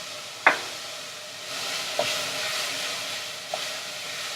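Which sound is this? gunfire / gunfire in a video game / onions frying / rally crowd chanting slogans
onions frying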